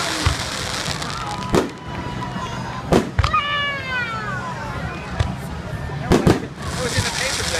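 Fireworks burst over Rehoboth Beach, with several distant booms spaced a second or more apart under people talking nearby and a brief whining, meow-like sound in between.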